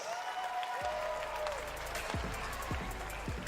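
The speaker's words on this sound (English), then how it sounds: "Round of applause one more time, guys" Audience applause for the game 4 winners at a live Fortnite Summer Smash Pro-AM event in Australia, continuous crowd clapping under sweeping electronic whooshes and deep booming hits.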